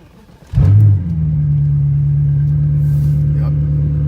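A 2009 BMW 650i V8 engine cranks and catches with a loud burst of revs, then settles into a steady, deep idle that holds close and even to the end.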